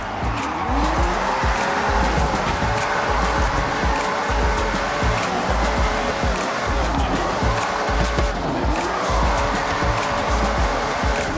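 Drifting car in the video game Forza Horizon: a loud, continuous engine roar with rising and falling revs, overlaid by sustained tire squeal and skidding throughout, no talking.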